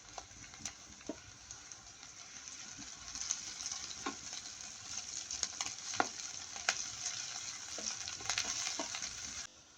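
Onions frying in a pan with a steady, broad sizzle throughout, punctuated by occasional sharper pops and crackles; close and continuous, with no talking.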